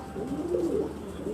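A pigeon coos softly and low while being held in the hand, a brief close murmuring call with no talk over it.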